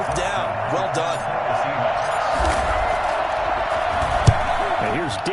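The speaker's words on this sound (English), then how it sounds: "How about some applause for the defense there?" Crowd noise and applause in the Madden football video game, a steady roar of cheering spectators with a sharp thump near the end and a commentator speaking over it.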